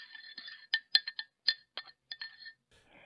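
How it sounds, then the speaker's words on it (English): A metal spoon stirring coffee in a cup, ringing out in a quick series of bright clinks against the sides, about a dozen taps in uneven rhythm, close and clear with no talking. "Stirring that cup of coffee this morning."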